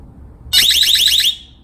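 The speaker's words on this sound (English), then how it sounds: "you just pull this tab here and it sounds an alarm" A small personal security alarm shrieks after its tab is pulled, a loud, piercing, rapidly warbling electronic tone that cuts in abruptly, lasts about a second and then fades.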